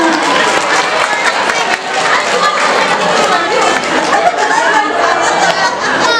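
A loud, dense burst of clapping and cheering from schoolchildren at a junior high school Maulid Nabi celebration in Depok, sustained and lively with excited crowd chatter mixed in.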